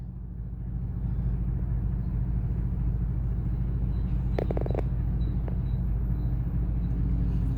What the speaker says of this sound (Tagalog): Traffic dito saglit lang.